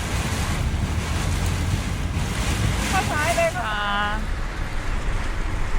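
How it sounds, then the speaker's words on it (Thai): Heavy rain roars steadily against a car driving the Prachinburi–Nakhon Nayok road in Thailand, a dense broadband wash filling the whole stretch while someone speaks briefly over it. "อันนี้เป็นบรรยากาศฝนตกนะคะ ตกอย่างหนักเลยค่ะ"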